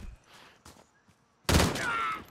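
A sudden loud burst of rapid gunfire from Call of Duty Warzone breaks in after a quiet stretch with faint sounds and continues to the end.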